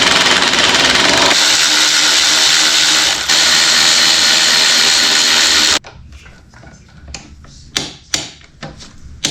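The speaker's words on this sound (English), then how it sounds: "we have our handy dandy Amazon tool, and we're just gonna fasten it in place" Power tool fastening the axle of a Kawasaki Ninja motorcycle during a home tire change: a loud continuous whirring run with a brief stutter, then it stops, followed by several sharp clicks and knocks.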